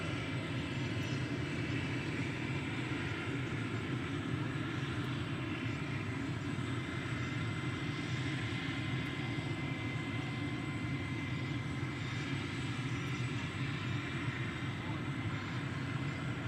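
An aircraft engine running at Glasgow airport, heard as a faint, steady, distant drone that holds unchanged throughout.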